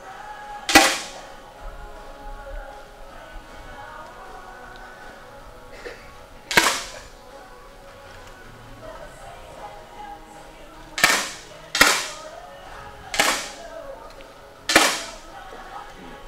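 Six sharp shots from 10m air rifles ring out in a men's ISSF World Cup final, each a crisp, loud crack spaced irregularly several seconds apart, with quiet room ambience in between.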